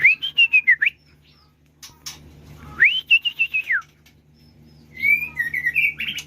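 A young songbird from a prized king killer bloodline sings in three loud, wild bursts of rising and falling whistled phrases and rapid chirps. Short pauses separate the bursts, and a faint low hum runs underneath.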